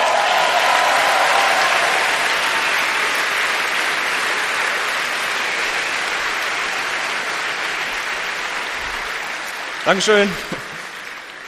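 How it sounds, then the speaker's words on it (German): A full hall applauds a university team's rover named Ziel at a science event, a broad sustained wash of clapping that slowly fades before a single voice speaks briefly near the end. "herzlichen Applaus für unseren Rover Ziel."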